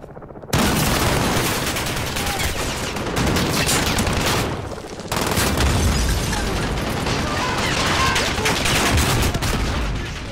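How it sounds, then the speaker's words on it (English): Grenade launcher blasts and heavy gunfire in Call of Duty: Modern Warfare, a dense, loud barrage of booming explosions and rapid shots that runs almost continuously, with a short dip partway through. "once you find the right angle to blow those guys up, you can use your grenade launcher"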